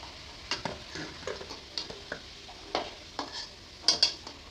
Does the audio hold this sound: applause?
no